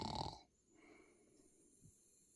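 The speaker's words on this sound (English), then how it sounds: "How can you snore standing upright?" A dog snores while standing upright, one soft nasal snort-like breath heard close and quiet after a brief louder burst, with no talking.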